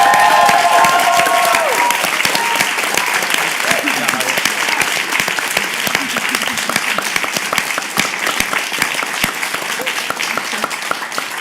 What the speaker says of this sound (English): I just want to massive round of applause for these 3